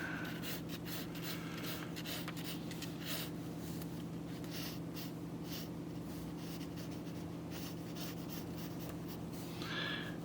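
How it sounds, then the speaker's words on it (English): A pencil scratches and rubs across paper while an arm is drawn, a steady run of soft strokes over a constant low hum, faint, close and unbroken, with no talking. "let's just draw a bit of her here"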